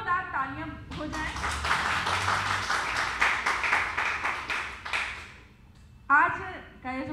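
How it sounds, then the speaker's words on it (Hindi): Applause from the audience at a Hindi poetry evening, a broad steady wash of clapping lasting several seconds, framed by speech before and after. "इस सुंदर सी संध्या की शुरुआत के पहले एक जोरदार तालियां हो जाए"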